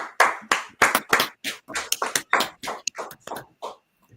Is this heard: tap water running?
no